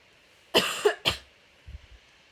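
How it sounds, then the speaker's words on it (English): Two sharp, close coughs in quick succession, followed by a few faint soft thumps and then quiet. "Sorry, I have to cough."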